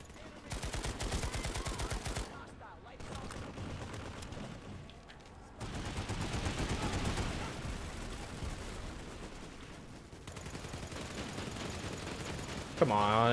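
Gunfire rattles in Planetside 2 as rapid bursts of automatic weapons fire crackle in the mix, fairly loud at times and dropping to quieter stretches, with someone talking over the battle.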